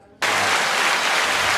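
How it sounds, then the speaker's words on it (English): Applause from a sobriety support meeting breaks out suddenly and holds steady, a dense burst of many hands clapping close by. "We applaud that shit."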